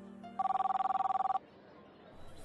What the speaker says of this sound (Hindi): तभी फोन बजा।